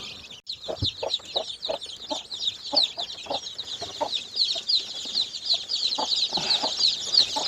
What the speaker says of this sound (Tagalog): So ito no yung mga sisiw natin.